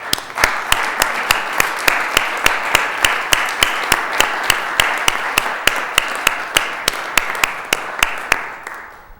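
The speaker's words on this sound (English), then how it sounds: "Can we give these youngsters a round of applause?" Applause for youngsters at a city council meeting, rhythmic evenly spaced claps in a steady beat over a broad wash of crowd clapping, fairly loud and sustained for several seconds.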